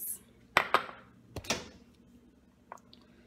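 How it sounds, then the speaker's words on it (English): A mug of protein mug cake batter clinks and knocks as it is set inside a microwave, a few quick ceramic taps and a brief scrape up close, then quieter handling. "now we're going to put it in the microwave for 30 seconds"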